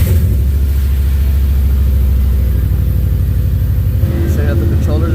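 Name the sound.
Subaru car engine starting and running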